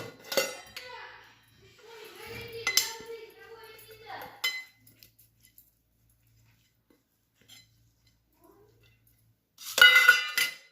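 Metal idli plates handled in a kitchen while being greased with oil, with bright clinks and scraping clatters in short bursts, someone talking between them, then a quiet gap before a final loud clatter.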